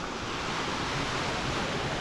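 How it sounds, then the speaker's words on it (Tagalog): A seasonal waterfall along a mountain trail produces a steady, dense rushing hiss, fairly faint and unbroken, with no voices. "Seasonal falls."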